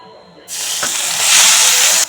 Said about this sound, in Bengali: এখন আমি পনির বেজে নেব